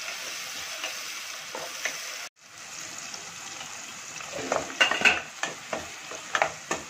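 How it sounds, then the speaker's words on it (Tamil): Onions sauté in a pan while a dry fish curry is being made, with a steady sizzle that cuts out briefly, then returns with louder stirring scrapes and clattering spatula strokes up close. "வெங்காயம் நல்லா வதங்கிடுச்சு"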